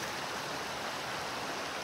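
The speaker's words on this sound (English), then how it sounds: "I have made it to this beautiful waterfall here." A waterfall in the Temagami wilderness roars as a dense, steady wash of rushing water, close and constant throughout with no other sounds.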